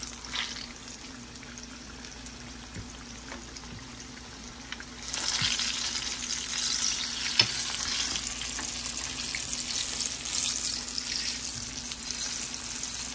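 Chili pakoras deep frying in hot oil, a steady hiss that swells louder about halfway through, with occasional light clinks and splashes close by and no talking.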